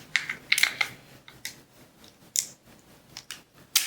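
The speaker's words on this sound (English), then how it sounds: "And now I'm going to start to tape this." Adhesive tape being pulled, torn and pressed down during a sublimation oven setup, a series of sharp close crackling rips and snaps with short quiet gaps between them.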